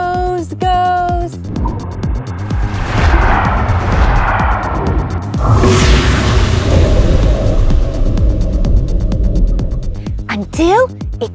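A cartoon torpedo strikes a ship and blows up with a booming, rumbling explosion that rolls on for several seconds among lighter cartoon effects and voices.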